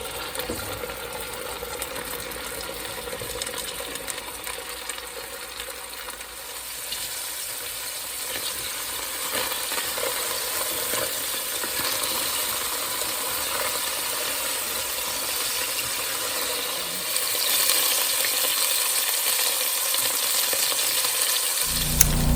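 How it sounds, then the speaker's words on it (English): Frozen sausages saute in a pan, a continuous crackling sizzle that holds for over twenty seconds and grows a little louder toward the end, with no voices. "The sausages are still frozen, but I think they'll thaw out while they're sauteing"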